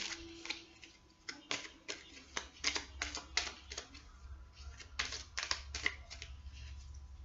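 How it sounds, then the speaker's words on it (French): Playing cards for Tam Tam are shuffled on a table, producing quick, crisp riffling clicks and flutters in irregular bursts, fairly quiet and close. "Les cartes du milieu sont mélangées."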